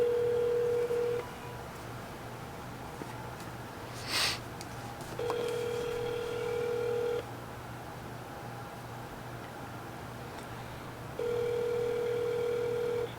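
A telephone ringback tone sounds over a speakerphone in long, evenly spaced pulses, with a brief beep between them and faint background hiss.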